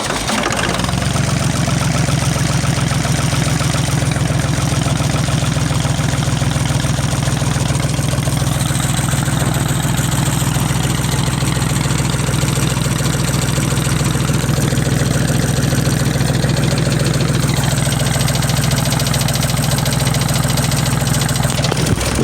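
Long 2460 tractor engine idling steadily for a long stretch, with a heavy low diesel drone and a faint knocking clatter, loud and close with no voices.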